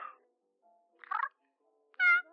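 A domestic cat meows three times in a quiet room: a short mew, a slightly longer one, then a louder, clear final meow, each separated by silence.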